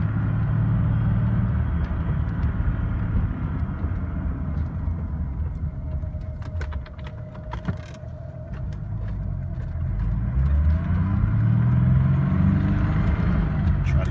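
A 1991 Ford Thunderbird SC driving and accelerating through the gears, its engine a steady low rumble with a dip as it shifts, then rising revs building toward the end, heard from inside the car.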